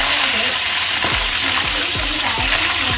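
Breaded frogs deep-frying in hot oil, a steady loud sizzle with bubbling and repeated soft clicks as pieces shift in the pan, close up, no voices.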